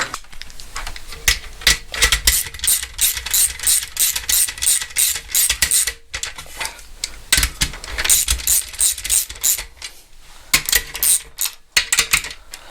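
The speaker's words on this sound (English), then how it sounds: "I think I will just get a socket, because this could take forever." A socket wrench ratchets in a workshop, rapid clicking bursts repeating with brief pauses between them, close and loud, with no one speaking.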